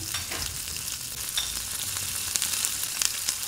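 Tomato, ginger and garlic sizzle in hot oil with lightly browned onion, a steady close crackle with brief sharp pops and spatters throughout.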